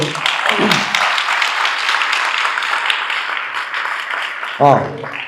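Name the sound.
audience applause for organizer Raghu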